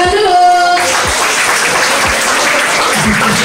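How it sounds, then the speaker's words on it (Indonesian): Audience applause at an Islamic boarding school gathering, dense sustained clapping from a crowd, loud and steady throughout with no break. "Tepuk tangan dulu."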